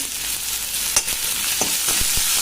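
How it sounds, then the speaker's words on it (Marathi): Finely chopped onion fries in hot oil, a steady close sizzle with occasional stirring scrapes and taps. "भाजून घ्यायचा तेलामध्ये।"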